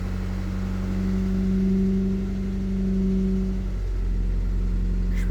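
Dingo engine running steadily after starting, a close, even mid-pitched drone with a faint rise as it is accelerated, then a slight drop in pitch near the end, with no talking.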